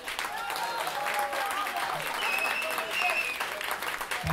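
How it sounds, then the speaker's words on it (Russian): An audience at a concert claps steadily between songs, a moderate and even wash of hands at some distance, with a faint tonal hum running beneath the clapping. "Аплодисменты"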